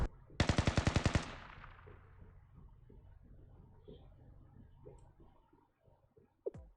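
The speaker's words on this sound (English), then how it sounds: "Does it seem like the gunshots are getting closer?" Gunfire in the Blue Archive video game: a rapid burst of about eight sharp shots, loud and close, fades into a quiet tail with faint scattered clicks and one more soft crack near the end.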